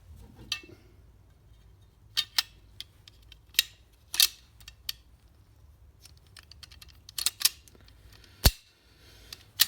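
Sharp metallic clicks and clacks come in scattered bursts, close by, with quiet pauses between them, as the action of a Lieferer 1001 .22 LR sporting rifle is cocked by hand.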